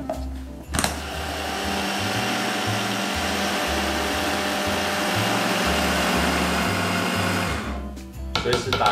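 A countertop blender runs steadily for about seven seconds, whirring loudly as it purées nutritional yeast, turmeric, black and white pepper, salt, plant milk and a little sesame oil into a batter, then switches off with brief clatter at the end.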